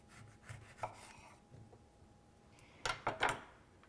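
Knife slices through a lemon on a cutting board in a kitchen, a few soft, faint cuts and taps followed by a louder cluster of chopping knocks near the end.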